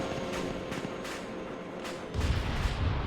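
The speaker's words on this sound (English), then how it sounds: "And another missile comes by." A missile streaks past in a combat video game amid a rapid series of sharp, booming gunfire-like bursts, followed by a deeper rumbling surge toward the end.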